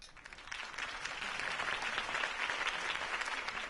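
Crowd applause in the Telltale Batman video game after a campaign speech for Harvey Dent, a dense steady wash of clapping from a large audience that sounds slightly distant and stays fairly quiet throughout.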